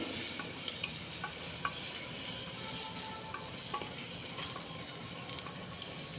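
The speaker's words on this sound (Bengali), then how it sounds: "এবার ভালো করে কষিয়ে নিচ্ছি।" Tomato sautéing with red chilli powder and ground spices in a pan, a continuous even sizzle with scattered light clicks of a spatula stirring, moderately loud and close, no voices.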